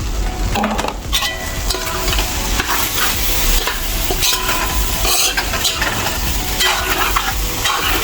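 Peas tipped into a pot of pelau and stirred, a steady dense sizzle and scraping of spoon against the pot running loud and close throughout with no talking.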